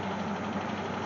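Jeep Wagoneer engine idling after an oil change, a steady low rumble with a slightly uneven, knocking pulse, close and continuous.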